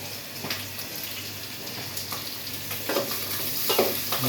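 Onions sizzle steadily in a hot pan while being stirred for sinigang na baboy, a constant close frying hiss with occasional scraping pulses from the utensil.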